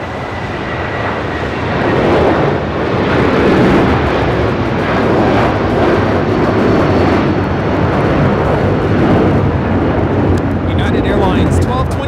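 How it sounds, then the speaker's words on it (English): United Airlines Boeing 757-300 taking off from LAX bound for Honolulu, a loud sustained broadband engine roar that swells and holds steady, heard from an airport vantage point. "United Airlines 1224 taking off to Honolulu on the 757-300"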